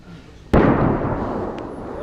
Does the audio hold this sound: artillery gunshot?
yes